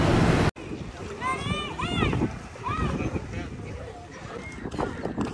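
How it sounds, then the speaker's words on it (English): Strong wind rushes across an outdoor pool under dark clouds, rumbling steadily against the microphone while people talk and a high voice rises over it. "then it got real windy and got these black clouds coming"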